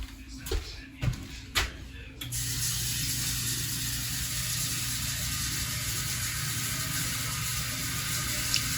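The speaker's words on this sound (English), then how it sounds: "He's putting water in the pot, in the tea kettle, so we can make black tea." Tap water runs steadily into a tea kettle for black tea, a continuous gushing splash that begins after a few short knocks and clatters and carries on at close range.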